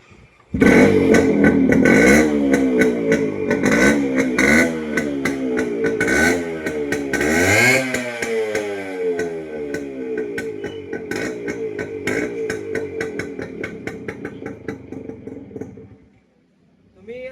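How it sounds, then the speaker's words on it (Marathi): A max100 motorcycle running without a muffler, revved hard in repeated loud rising and falling bursts with sharp exhaust crackle, close up, before the engine cuts and fades at the end. "आता तुम्हाला आपल्या गाडीचा विदाउट मफलर आवाज दाखवतो कसा येतोय"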